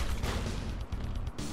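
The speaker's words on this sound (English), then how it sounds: "That was a bizarre explosion." A loud, dense explosion in the building game Trailmakers rumbles through the full 1.6 seconds, with crashing debris and low booms that dip briefly near the end before surging again.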